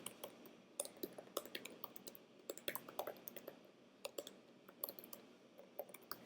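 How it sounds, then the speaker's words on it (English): Rapid, irregular clicking of keys on a computer keyboard while text is entered into cells of an Excel spreadsheet, close and fairly quiet, with no talking. "So I can type this."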